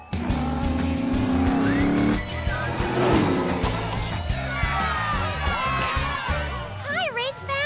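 Cartoon race cars speed past with revving engines, rising whooshes and squealing tires over music, while voices chatter beneath the racing noise.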